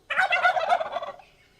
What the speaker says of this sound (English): especially because of the turkeys